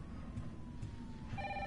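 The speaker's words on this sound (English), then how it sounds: "Oh, this is the ringing phone." Telephone ringing in the survival horror video game Resident Evil 3, a faint electronic ring sitting low beneath steady ambient game sound, heard alone without talk.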